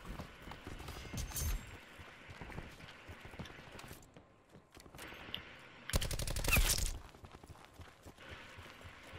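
Gunfire in a video game, fairly faint and distant: scattered shots crackle early, then a louder, sharper volley bursts out near the end over a quiet background.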